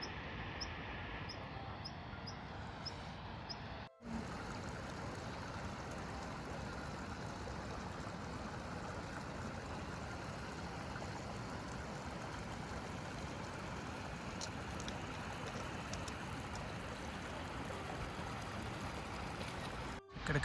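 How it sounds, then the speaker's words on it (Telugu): Beas River near its Himalayan source at Beaskund, a small waterfall roaring in a steady, dense rush of falling water, close and loud throughout with no voices. "ఇక్కడ కనిపిస్తుంది బ్యాస్ వాటర్ ఫాల్."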